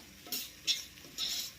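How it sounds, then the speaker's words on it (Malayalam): A spoon scrapes and clinks three times through ginger, green chili and garlic paste in a biryani pot, short bright strokes against a quiet kitchen hiss. "നന്നായിട്ട് ഇളക്കി"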